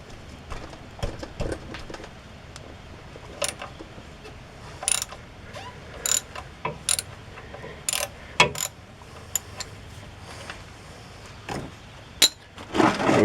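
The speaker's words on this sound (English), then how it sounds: "So we'll go pull the drain plug." A ratchet works a 15 mm oil drain plug loose on a 2014 Chevy Silverado, giving irregular bursts of sharp metallic clicks over a quiet background.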